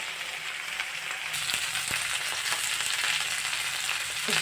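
Cauliflower pieces fry in a pan with ginger, garlic, turmeric and fenugreek, giving a close, even sizzle that grows slightly louder, with a few faint clinks of stirring.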